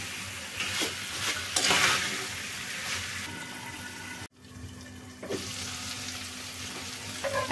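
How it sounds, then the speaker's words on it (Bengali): Chicken and masala sautéing in a pan for a chicken tomato curry, steady close sizzle with stirring scrapes, a brief cut near the middle, then frying continues with occasional spoon knocks. "আমি এটা কিছুক্ষণ কষিয়ে নিব।"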